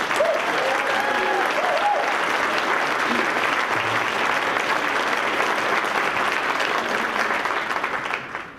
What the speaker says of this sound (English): A round of applause, please, for JD and Tracy.